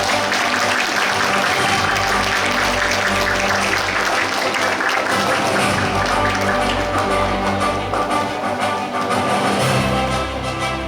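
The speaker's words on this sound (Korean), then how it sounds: "여러분들 정말 아낌없는 박수와 함성으로 함께 맞이해주시면 감사하겠습니다" Dense, sustained crowd applause with cheers fills an indoor youth forum hall in Suncheon, welcoming the city mayor to the stage, steady and loud throughout.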